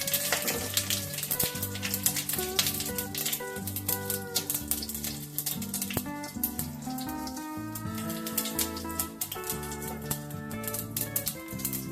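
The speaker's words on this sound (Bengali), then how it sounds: "আর দেবো কারি পাতা। প্রথমে এটাকে আমি ভালো করে ভেজে নেব।" Curry leaves with dried red chillies sizzling in hot oil for masala dosa, a dense crackling spatter with sharp pops running throughout.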